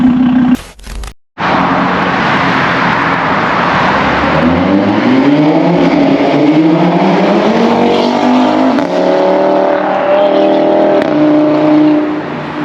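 An Audi RS3 with a 430 hp five-cylinder engine accelerates hard on the Autobahn, heard from inside, with a loud rising engine growl that climbs through the gears with brief dips at shifts after a short dropout at the start.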